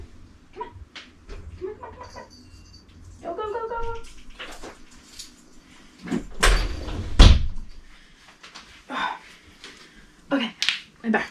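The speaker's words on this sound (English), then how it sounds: "No, it's definitely scratching on the door again." Scratching and bumping against a door, a scattered series of soft scrapes and knocks, louder thuds in the middle, with a person talking quietly in between.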